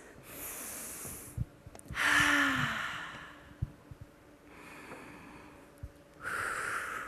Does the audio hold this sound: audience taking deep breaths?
yes